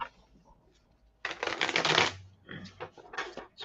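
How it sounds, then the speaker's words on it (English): A deck of tarot cards is shuffled nearby in quick crisp riffling bursts with a short pause between them, faint and close on a quiet background. "Surprised these cards even shuffle after yesterday."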